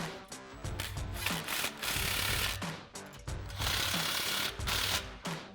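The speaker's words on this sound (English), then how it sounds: "Then we can go ahead and snug these clamps down." A Silverado exhaust system's clamps being tightened, giving rapid ratcheting clicks in bursts with short pauses, close and fairly loud with no talk.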